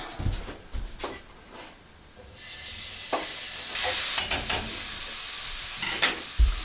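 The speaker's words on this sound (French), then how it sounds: "Et pendant que ma viande saisit un peu" Meat sears in a hot frying pan with a steady sizzling hiss, punctuated by scraping and clattering as it is stirred and moved around the pan.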